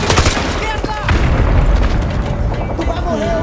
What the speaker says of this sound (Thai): ดีนะหลบระเบิดทันเนี่ย